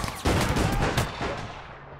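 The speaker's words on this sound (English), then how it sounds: "I got shot in the back, Jobs." Gunfire in the video game APB Reloaded, a loud burst of several shots blending into a heavy rumbling roll that gradually fades out.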